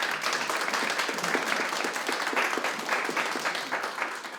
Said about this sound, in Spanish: un fuerte aplauso para nuestra consejera Carolina del Ángel Cruz